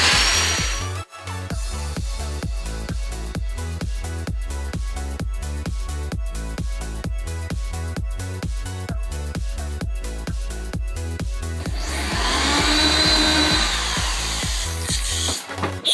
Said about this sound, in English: The drill bit that I'm using is a 732. It's a little bit smaller than the carriage bolts.